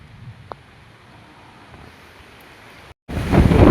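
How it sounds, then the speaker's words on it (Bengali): Strong storm wind gusting outdoors under dark clouds, a low rushing rumble that briefly cuts out, then returns as a much louder, harsher blast of wind roaring over the microphone. "বন্ধুরা প্রচুর পরিমাণে ঝড় হচ্ছে এখন। একবার এলাম, প্রচুর হাওয়া দিচ্ছে"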